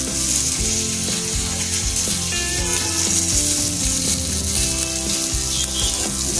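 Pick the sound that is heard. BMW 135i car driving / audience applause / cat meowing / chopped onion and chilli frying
chopped onion and chilli frying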